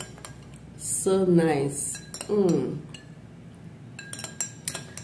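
A spoon stirs a yeast and honey drink in a glass, giving a few bright clinks against the glass. A voice speaks briefly between and over the tapping.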